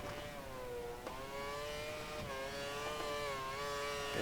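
A Formula 1 car in the racing game F1 2013, driven at the Hungary circuit, revving with a high, steady engine whine that rises and falls with the throttle between corners, loud and close with no talking.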